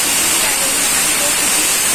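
Chopped onion hits hot oil in a pan on a medium flame while pav bhaji is cooked, giving a loud, dense, steady sizzle like rushing hiss, with a voice speaking over it.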